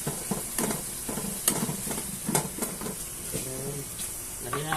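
Chopped tomatoes sizzle and fry in a pan while being stirred, with repeated scraping strokes of a utensil against the metal and a steady hiss underneath, close up.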